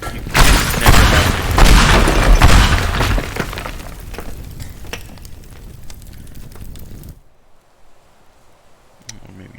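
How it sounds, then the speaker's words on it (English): Explosive blasts and shattering debris from pipe bombs going off in the destruction game Teardown, a loud dense roar of crashes for about seven seconds that then cuts to near silence with a few faint clicks. "More pipe bombs."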